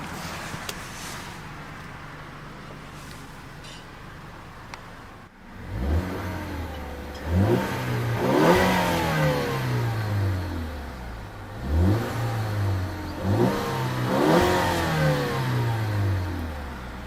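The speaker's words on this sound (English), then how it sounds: "nice smooth engine, unique exhaust note," A 2013 Ford Fusion Titanium 2.0-litre turbocharged engine idles quietly, then revs hard several times in rising, surging bursts, each sweeping up and falling back, loud and close.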